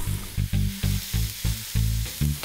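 Chopped onion and garlic fry in a pot of hot fat, a loud sizzle that swells and eases in regular pulses as it is stirred, with no voices.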